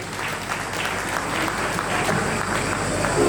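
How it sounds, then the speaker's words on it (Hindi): A large crowd at a religious foundation-stone ceremony claps together with both hands raised, producing a thick, sustained wash of applause that holds steady and swells slightly toward the end. "दोनों हाथ उठा करके ताली बजा लीजिए अपने लिए"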